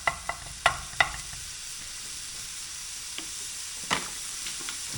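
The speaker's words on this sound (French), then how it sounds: "Une fois que ta poêle elle est chaude, t'envoies tes lardons, t'entends que ça fait un petit bruit là" Bacon lardons sizzle steadily in a hot frying pan, a continuous close hiss broken by a few sharp pops and crackles early on and again near the end, with no talking.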